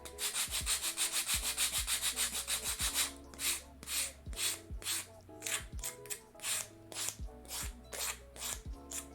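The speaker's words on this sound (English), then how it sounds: "we're just gonna get through some sanding tonight" Hand sanding of wood parts for a miniature long dresser: steady rhythmic rasping strokes, fast and even at first, then slower, irregular rubs with light taps, close and fairly quiet with no talk.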